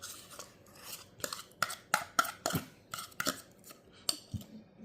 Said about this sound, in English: You want to just fork it out into the bowl.